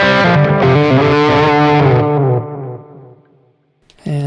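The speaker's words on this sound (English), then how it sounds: "here we have the overdrive again." Electric guitar driven through a Tube Screamer overdrive model on a Zoom G3X multi-effects unit with analog delay, loud crunchy chords for about two seconds that decay into a fading tail, then a fresh chord strikes near the end.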